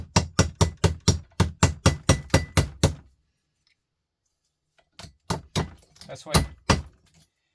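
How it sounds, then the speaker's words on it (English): Sharp hammer blows break a bulb to free its clean brass base for scrap metal, a fast run of about ten metallic strikes, then a pause and a second, irregular burst of hits close by; a voice speaks briefly. "I'll break that bulb, and this here is pure clean brass. In here, brass. Hit it a slap of the hammer, done."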